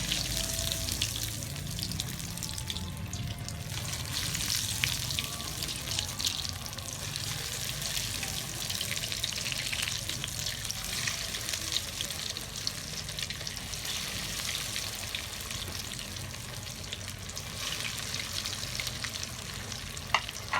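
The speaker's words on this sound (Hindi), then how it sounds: "अब इसको हम फ्राई करेंगे।" Potato vermicelli cutlets deep fry in hot ghee with a constant, crackling bubbling hiss, close and steady for the whole stretch, with faint handling clicks and no talking.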